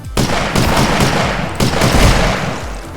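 Loud bursts of gunfire from the boomer shooter video game Dragonfly, dense rapid blasts with a few sharp onsets, up close and filling the whole stretch.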